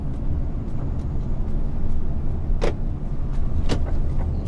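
A car passes on the road, a steady loud rush of tyre and engine noise heard from inside a moving vehicle, with a couple of brief sharper clicks over the continuous drone.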